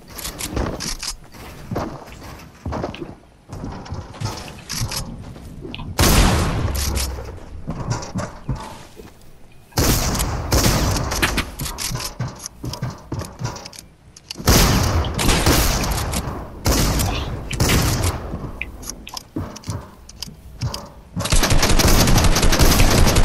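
Fortnite gunfire comes in rapid automatic bursts and heavy shotgun blasts, loud and close, arriving in clusters separated by short lulls and ending in a sustained barrage.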